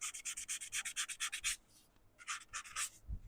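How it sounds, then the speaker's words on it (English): Sandpaper rubbed against the foot of a wood-turned piece in quick, regular back-and-forth strokes, a burst of about a dozen rasping passes, a short pause, then several more, close and clear with no talking. "a little minor sanding on the foot."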